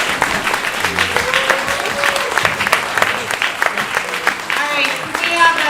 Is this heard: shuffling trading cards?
no